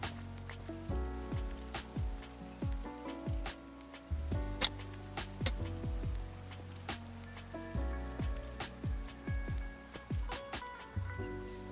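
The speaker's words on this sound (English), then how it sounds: "hey, rainstorm" Rainstorm in the video game Minecraft, a steady patter of rain running throughout with many sharp clicks and thuds layered on top, with no talking.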